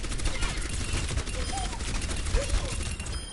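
Rapid gunfire in Overwatch hitting a protective barrier, a dense, steady rattle of shots with sharp impact clicks, continuous over a few seconds with faint voices in the background.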